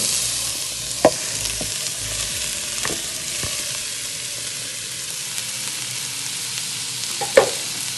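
Cabbage frying in a pan on a home stove, a steady broadband sizzle throughout with a few sharp clinks of a utensil against the pan at moments, close and fairly loud, no voices.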